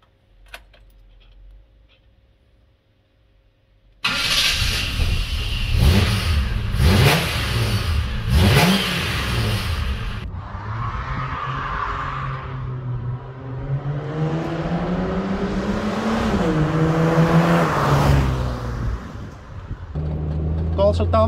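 After a quiet start, a Mk3 Ford Cortina's 3-litre V6 engine suddenly fires up close by, then revs up and falls back several times in loud rising and sinking sweeps before settling into a strong idle.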